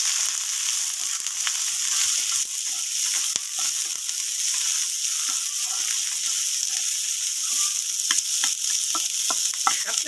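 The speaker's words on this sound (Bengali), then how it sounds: "এগুলো আমি ভালো করে ভেজে নেব।" Onion petals and chopped green chilies frying in hot oil give a steady, loud, bright sizzle throughout, with occasional crackles and stirring scrapes and no talk.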